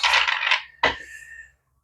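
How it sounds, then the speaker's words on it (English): A tarot card deck being shuffled: a bright riffle of flicking cards, then a sharp snap as the deck is squared, followed by quiet. "Just going to give this a few more shuffles here."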